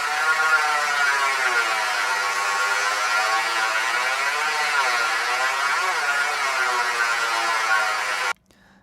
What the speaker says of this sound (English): for this flying sound, I recorded the engine of my car and put some weird effects on it